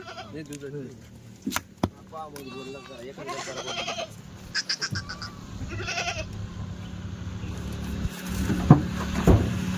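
Kathiawadi goats bleating repeatedly in a livestock setting, several wavering calls near and loud at the start, then a noisier stretch with thumps and people talking.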